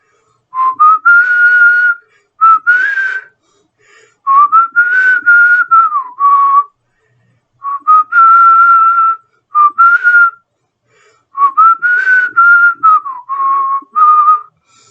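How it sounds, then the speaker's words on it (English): A melodic whistled tune, the signature whistle from the video game Mega Man 3, played in several clear phrases with short pauses between them, bright and close. "But as Mega Man wakes up, you hear a signature whistle."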